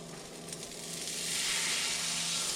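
Arepa dough with cheese frying in a cast iron skillet gives a steady, close, airy sizzle that grows louder and fuller over a couple of seconds, with no talking.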